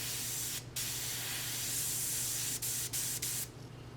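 An Iwata or Ken Badger chrome airbrush spraying in a steady loud hiss, with several brief interruptions as the trigger is released while the air pressure is adjusted.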